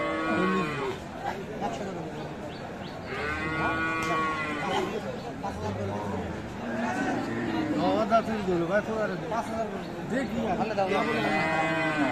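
Young Friesian cows low repeatedly amid the noise of the crowded Aftabganj cattle market in Dinajpur, several drawn-out moos rising over people talking nearby.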